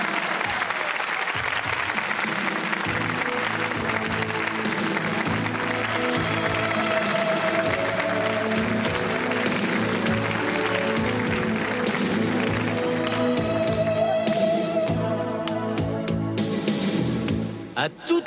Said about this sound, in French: on applaudit aussi